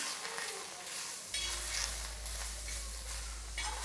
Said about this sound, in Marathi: तो टोमॅटोही मी यावर व्यवस्थित भाजून घेते टोमॅटो भाजतानाही आपल्याला तेल घालायचं नाही आहे